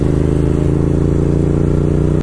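A 200 NS motorcycle runs steadily nearby, its engine giving a continuous low, rumbling drone with some mechanical clatter, loud and unbroken with no voices.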